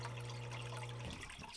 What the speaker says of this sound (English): let's cut the water so we don't blow any of the gold out